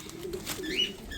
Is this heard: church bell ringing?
no